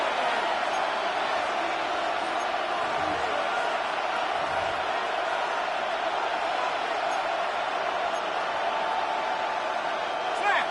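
A large football stadium crowd roars in a steady, dense wash of cheering and noise to force a false start on third and inches, while a commentator talks over it.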